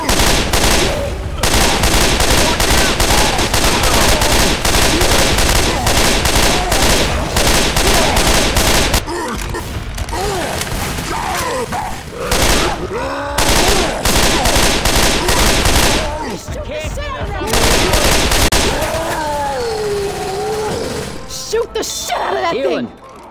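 Sustained automatic gunfire blasts at the Tank in Left 4 Dead 2, loud and continuous for long stretches with brief pauses, while players shout over the shooting.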